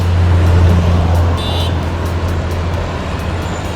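A blue Top Bus travelling along a busy road, a loud, near engine rumble and road roar that eases slightly partway through, with a short high beep and traffic noise around it.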